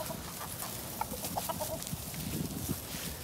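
Chickens cluck softly nearby in a garden, a few short clucks and murmurs scattered over steady outdoor background noise.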